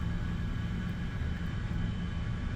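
Aircraft in War Thunder produces a steady, loud engine drone with a dense, unbroken roar throughout, no pauses or talk over it.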